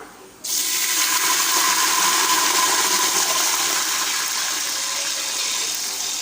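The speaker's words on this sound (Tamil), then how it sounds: "இப்போ இதில் நம்ம தண்ணி சேர்க்கலாம்" Water pours steadily into a pan of roasted lentils and raw rice for upma, a loud continuous rushing gush starting abruptly and running without pause, close up with no talk.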